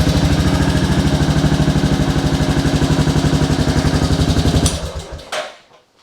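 A Royal Enfield Classic 350 Reborn motorcycle engine runs close by with a steady, rapid thumping idle, then cuts off and dies away near the end.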